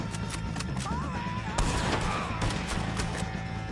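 Rapid gunfire rattles in Red Dead Redemption 2, a dense fusillade of close shots over game noise, with a whistling tone running briefly beneath the bursts.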